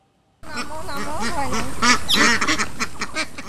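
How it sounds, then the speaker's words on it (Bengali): A flock of American Pekin ducks on a farm, loud and close, quacking repeatedly in overlapping, raspy calls that start abruptly and continue without a pause. "বাড়িতে পালন করছেন আমেরিকান পিকিং জাতের হাঁস"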